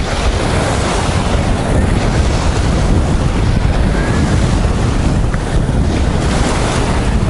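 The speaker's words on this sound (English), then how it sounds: "this is definitely more waves than I've seen at the other beaches I've been to" Ocean surf rolls onto a windy beach at Tsilivi, Zakynthos, a loud, continuous wash of breaking waves with heavy wind buffeting the microphone throughout and no voices.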